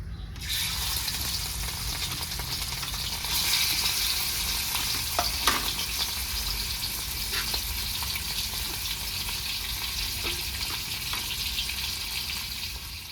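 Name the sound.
fish frying in oil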